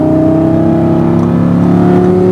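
A supercar engine pulls hard on a racetrack, a loud steady drone with rising tones, close and continuous, no voices over it.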